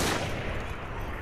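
Dense pistol fire from a gang of rooks in Assassin's Creed Syndicate, a loud continuous burst of overlapping gunshots filling the moment with no pauses.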